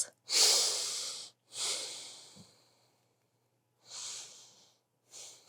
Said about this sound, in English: One more deep breath in and exhale.